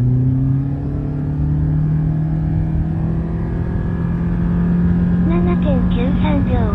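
Toyota Prius with the new 2-liter engine accelerating from 0 to 100 km/h, a steady rising engine drone heard from inside the car, joined near the end by short chirping electronic tones.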